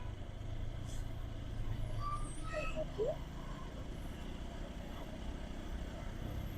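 Road traffic picking up after a bridge, heard from inside a moving vehicle: a constant low engine and road rumble with passing trucks and cars, a few brief horn-like tones midway, and faint voices in the background.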